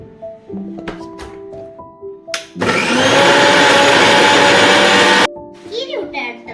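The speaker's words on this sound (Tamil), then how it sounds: "எல்லா இன்கிரிடியன்ட்ஸும் மிக்ஸி ஜார்ல போட்டு அரைச்சி எடுத்தீங்கன்னா" A mixer grinder grinds green masala paste ingredients for Kerala-style fish fry in one loud, steady whirring burst of about three seconds, near and constant, with brief clinks and handling noises before and after.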